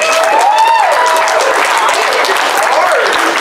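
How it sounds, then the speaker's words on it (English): Dense, loud applause from a crowd for performers at a furry convention show fills the space, with scattered cheers and a whooping voice rising over the clapping. "give all of our performers a round of applause"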